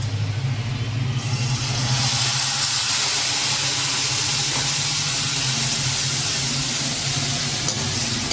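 Steady, loud sizzling hiss of spices hitting hot oil for tempering, continuous throughout with no talking.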